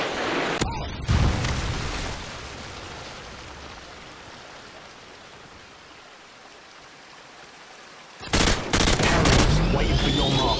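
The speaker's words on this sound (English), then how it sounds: "Friendly Predator missile inbound." Gunfire and a Predator missile strike in a first-person shooter video game, with a sharp burst of shots, a long rushing roar that slowly fades, then a heavy blast and more loud crackling.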